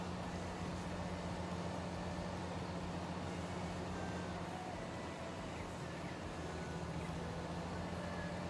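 A train rolls past in a farming video game, a faint steady low rumble with a droning tonal hum running throughout, no voices.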